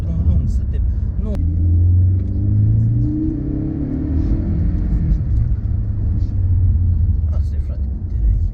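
Audi A4 B6 engine with a stainless steel exhaust pipe rumbles low and deep, revving up and easing off close by, with someone talking over it.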